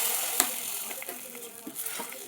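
Hot coconut tempering with chilli powder sizzles and crackles as it is poured into a Kerala erissery curry of plantain and cowpeas, a soft steady fizz with scattered pops, close and continuous, no voices.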